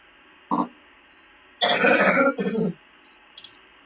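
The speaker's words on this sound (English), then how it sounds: "Sorry, I had a coughing fit" A man coughs close to the microphone during a live marine radio broadcast: one short cough, then a longer harsh burst of hacking a second later, with a faint throat sound near the end.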